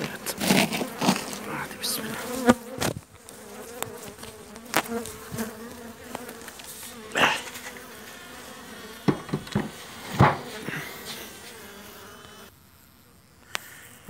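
Hungry honey bees buzz steadily close by while being fed syrup, a dense drone with louder passes as individual insects fly near, plus a few faint bumps and rustles.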